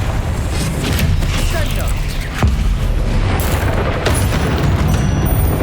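Confringo blasting spells in the Hogwarts Legacy video game set off heavy booming explosions and rumbling impacts, with voices in the mix.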